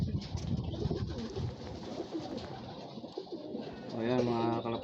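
Pigeons coo softly in a rural setting in Tiaong, Quezon, ending in a clearer rolling coo near the close, with faint talking underneath.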